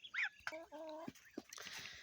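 Backyard hens calling near the mic in a short burst of clucks and squawks, one sharp high call then a few steadier, droning vocalizations, with faint background rustling.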